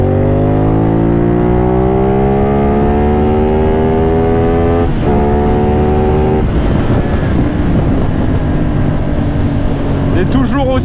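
A CFMOTO 450NK motorcycle pulls hard in third gear from about 60, engine note climbing steadily and loudly with a brief shift-like break midway, then settling into wind and road noise.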